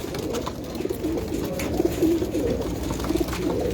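Pigeons on a rooftop coo in a low, repeated rolling murmur, a steady run of soft calls close by with no talking.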